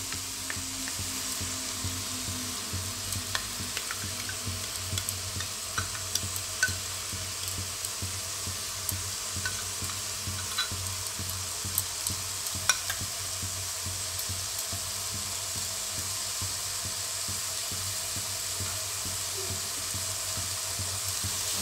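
Spice masala frying in a pan with whisked sour yogurt added for Jammu-style rajma, a steady continuous sizzle with occasional clinks of stirring throughout, close and even.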